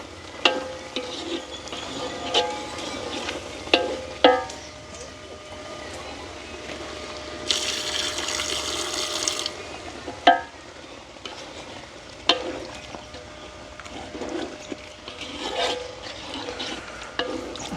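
A spoon scrapes and clinks intermittently in a pot of curry, with a brief burst of pouring hiss midway as milk is added and soft village kitchen noise between strokes.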